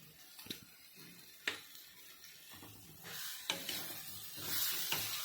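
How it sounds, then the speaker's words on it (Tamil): Garam masala with turmeric and chili powder sautéing in a pan for paneer butter peas masala, a soft continuous sizzle with occasional sharp clicks of a spoon against the pan and a brighter hiss swelling toward the end. "இதையும் வதக்கணும். நல்லா வதங்கிடுச்சு கரம் மசாலாலாம்."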